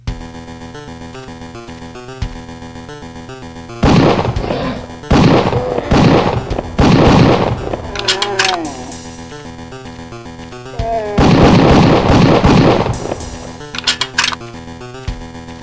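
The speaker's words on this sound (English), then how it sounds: "running around with the 12 gauge semi-auto shotgun like it was Doom" A 12 gauge semi-auto shotgun in a PS1 hunting game fires several loud, booming blasts with short gaps between them, backed by a steady droning game music loop.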